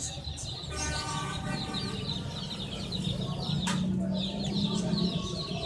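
Hens clucking nearby in a busy yard, with a steady layer of background noise and other bird calls mixed in.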